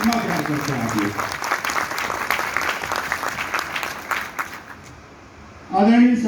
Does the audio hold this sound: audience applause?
yes